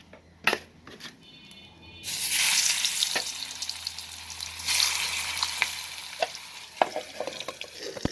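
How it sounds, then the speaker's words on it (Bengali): Fish fries in a kadai, a loud bursting sizzle that surges up partway through and then settles into a steady hiss, broken by sharp metallic scrapes and clinks of a spatula close by. "এই যে মাছ ভাজা শেষ হয়ে গেছে"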